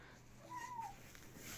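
A cat gives one short, faint meow over a quiet background hum.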